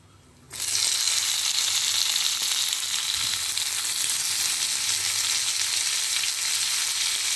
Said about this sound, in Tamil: எண்ணெய் நல்லா காஞ்ச உடனே பெருங்காயம், அதுக்கப்புறம் வந்து தக்காளி, பச்சை மிளகா,